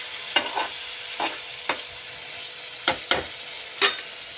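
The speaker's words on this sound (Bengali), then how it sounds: "ভালো করে কষিয়ে নিয়ে আমি পেঁয়াজ বেরেস্তাটা দিয়ে দেবো" Masala for katla fish curry sautés in a pan with a steady frying hiss, broken by about six sharp scrapes and knocks of a spoon stirring at irregular intervals. No one speaks.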